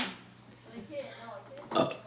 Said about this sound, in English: what is with the burping?